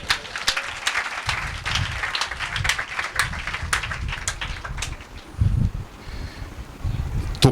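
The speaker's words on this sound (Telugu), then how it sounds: "ఇప్పుడు కొట్టండి చప్పట్లో." A church congregation claps during a Telugu sermon, a loose run of hand claps of varying strength with soft rustling and low thumps underneath, swelling and fading over several seconds without speech.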